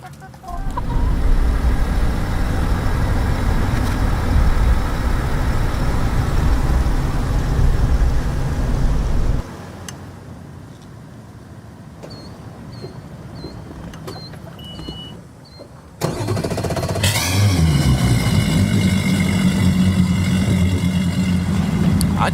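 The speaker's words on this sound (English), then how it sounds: "I am not getting tired of hearing that motor start up" A motor runs loudly and steadily up close, drops away to a quieter stretch with faint chirps, then starts up again with a rising whine and keeps running.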